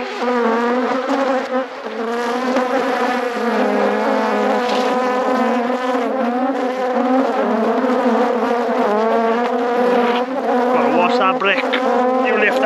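Dense, loud buzzing of honeybees swarming close around an open hive, a continuous droning hum with layered wingbeat tones that never lets up, with no clear speech.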